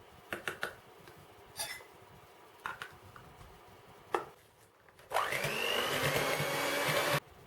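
After some knocks and clatter, an electric mixer whirs loudly and steadily for about two seconds as it beats sugar and margarine to a cream for Maids of Honour pastries.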